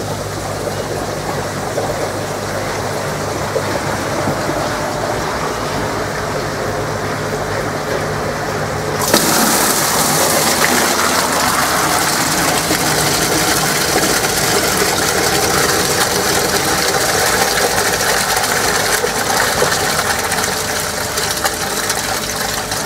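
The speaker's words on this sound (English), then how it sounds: "it's got the new air on it, so it should pump up quite a lot of air" A 200mm UpFilter air pump fitted with a bigger air pipe runs steadily with a broad rushing, bubbling hiss. It jumps sharply louder partway through and then holds a constant close roar.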